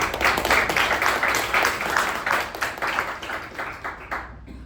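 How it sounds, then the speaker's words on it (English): Meeting attendees applaud together in a steady, dense burst of clapping that fills the room and fades slightly toward the end. "Let us give him a round of applause."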